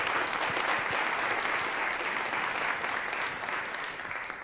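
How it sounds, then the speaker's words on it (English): A round of applause for student competitors at a business pitch competition, a room full of steady, dense clapping that holds loud and then gently tapers off, with no talk. "let's give them all a round of applause to get them started and to thank them for all their hard work"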